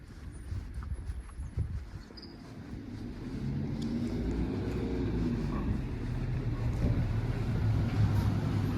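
A shuttle bus at a public park in Japan rolls past at a moderate distance, its low engine rumble swelling steadily over several seconds, with no talking over it.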